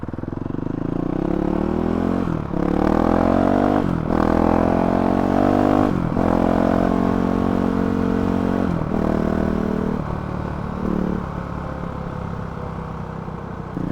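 Honda CRF 450 RL motorcycle with a Graves exhaust and GET ECU being ridden, the engine loud and near, pulling through repeated upshifts with climbing pitch, then easing off to a rougher, lower drone.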